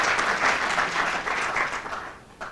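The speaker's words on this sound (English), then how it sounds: "round of applause" A crowd applauds steadily for a couple of seconds, a dense patter of many hands that eases slightly toward the end.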